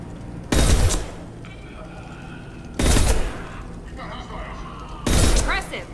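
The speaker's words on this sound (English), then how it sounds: "Blue Suns and Vorcha shooting anything that moves." Three loud bursts of rapid gunfire from Mass Effect Legendary Edition, spaced about two seconds apart, each a short clattering volley with game effects and tones ringing between them.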